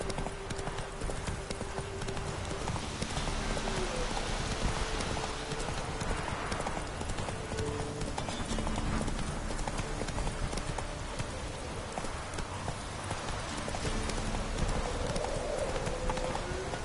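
Horse hooves clip-clop steadily in a PS4 video game, a continuous even trot heard throughout, with occasional faint game voices and ambient sounds in the background.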